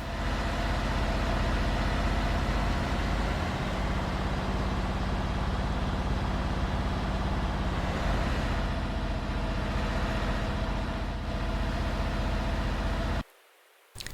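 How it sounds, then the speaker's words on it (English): A truck engine in the TruckersMP game idles with a loud, continuous low diesel rumble and rattle for many seconds, before cutting off abruptly near the end. "I was in space, Flair, and you could still hear that engine."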